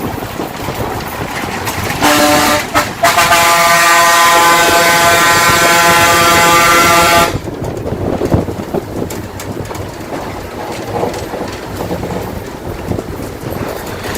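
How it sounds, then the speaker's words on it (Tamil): A TNSTC bus climbing hairpin bends on a hill road sounds a long, loud, sustained horn blast of several seconds over the drone of the engine and road noise, with shorter honks just before it. "அதனால தான் டிரைவர் இவ்வளவு ஹாரன் போட்டாரு."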